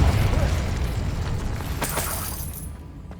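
The Confringo explosive spell goes off in Hogwarts Legacy: a loud, close blast with crackling debris rumbles and slowly dies away, with a sharper pop partway through.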